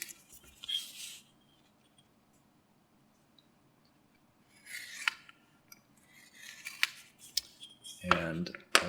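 A blade scores and breaks cardboard sides, giving dry scratchy rasps and crisp snaps in a few short bursts separated by near silence, ending in a louder crackle.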